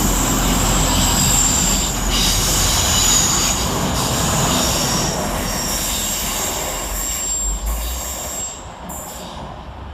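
Two Class 185 multiple units pass through Deansgate railway station in Manchester on an airport to Redcar Central service, a loud continuous roar with rumble and high wheel squeal on the curve that slowly eases toward the end.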